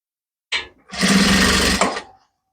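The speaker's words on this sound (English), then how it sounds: "So I'm sewing all the way round." Sewing machine stitching a kimono jacket, heard close and loud: a brief clack, then about a second of steady, rapid motor-driven stitching that stops abruptly, with no talking.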